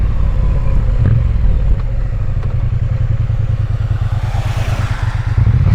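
Triumph Bonneville motorcycle engine while riding on a rainy day, a loud steady low throb with even pulsing and some wind and road hiss, close, no speech.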